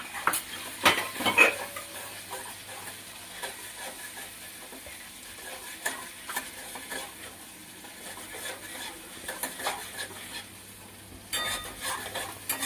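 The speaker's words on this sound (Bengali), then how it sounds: "দইটা একটু দিয়ে দিলাম, দিয়ে একটু নেড়ে নেবো।" Yogurt stirred into a pabda fish curry in a pan: soft spatula scrapes and taps against the pan over a faint, low sizzle, close and intermittent.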